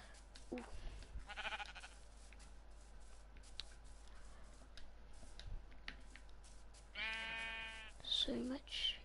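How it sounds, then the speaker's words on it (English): Farm animals in the video game Minecraft, including pigs, make scattered calls over faint background game sounds, with a clear bleating cry near the end. "All I'm hearing is pigs and stuff."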